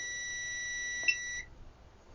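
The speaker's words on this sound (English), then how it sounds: "So it needs to be below 60 ohms for a continuity test to beep." A Zotek Zoyi ZT-5566 SE desktop multimeter gives a steady, high continuity-test beep lasting about a second and a half, with a small click partway through, then cuts off into quiet.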